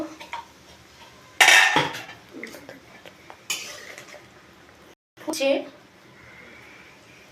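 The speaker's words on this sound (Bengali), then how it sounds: "পাঁচ মিনিট পর আমি ফিরে এলাম ঢাকনাটা এবার খুলে দেখব" A metal pot lid is lifted off a pan of fish curry with aubergine, giving a loud clatter of metal on metal, followed by fainter clinks and a second scraping knock a few seconds later.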